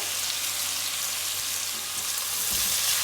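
A cashew curry base with salt and turmeric fries in a pan, a steady, close, loud sizzling hiss that holds evenly throughout with no voices.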